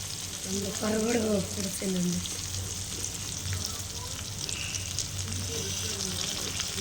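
Dried fish sizzling steadily in a frying pan with masala, a continuous close hiss and crackle, with a voice briefly talking over it early on.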